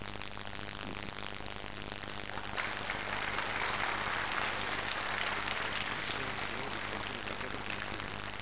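Audience applause at a quantity surveyors' workshop in Nigeria, a steady broadband clapping that swells after the first few seconds and continues at an even level to the end, over a constant low hum.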